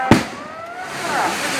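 At a temple fire-walking festival, one sharp firecracker bangs close by, and a ringing tail fades under murmuring crowd voices.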